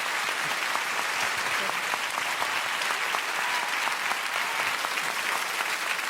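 A studio audience on a French television show applauds a departing guest, a dense, steady, fairly distant wash of many hands clapping that holds level throughout, with faint voices underneath.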